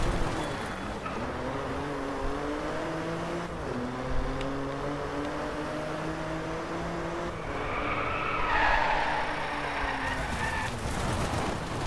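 Engine tones climb and fall steadily in the Driveclub racing game as a car drifts, with a brief hiss of tire skid late on. The game audio is continuous and moderately loud, with no talking.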